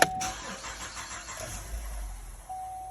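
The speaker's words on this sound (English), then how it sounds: "It's got a misfire." A car engine with a random misfire on cylinders 2 and 6 runs close by with a rough, low rumble. The rumble is uneven, and it rises and dips slightly over a few seconds.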